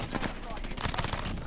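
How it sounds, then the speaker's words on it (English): Gunfire in the Warzone video game, dense crackling shots overlapping in quick bursts, loud and close throughout, with no clear talk on top. "I don't know where they shooting me from, bro."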